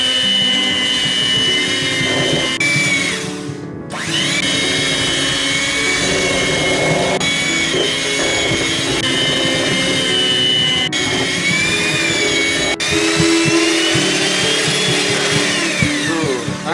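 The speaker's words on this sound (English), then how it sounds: "I'm gonna go ahead and start using the mixer." An electric mixer beats peanut butter whole wheat banana bread batter, a loud continuous whirring drone that holds steady apart from a brief dip near the start, with no talking.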